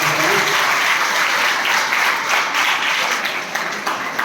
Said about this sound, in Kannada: ಅವರೆಲ್ಲರಿಗೂ ಜೋರಾದ ಚಪ್ಪಾಳೆ ಮೂಲಕ ಧನ್ಯವಾದಗಳು